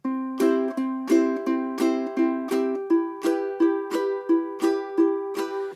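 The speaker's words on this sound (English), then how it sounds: "You'd pick string 3 and do a down strum and pick string 3" Plucked ukulele notes on the third string alternating with light down strums in a steady, even rhythm, bright and close, repeating for several seconds without voices.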